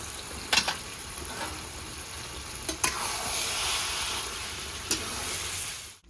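Chicken cooked with raw and ripe mango and a spoon of sugar sautés in a pan, a constant close sizzle broken by several sharp scrapes and clacks of a stirring spoon.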